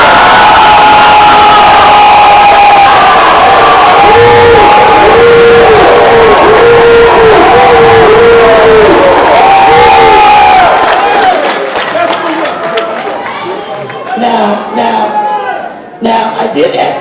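An audience at an education forum breaks into loud, sustained cheering, whooping and applause, dense and close, with shouts rising over the clapping before it thins out and fades.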